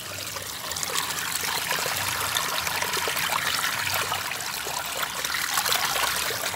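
Water trickles and streams continuously at a fishing pond, a close, steady splashing flow that swells slightly after the first second and carries on alone without any talk.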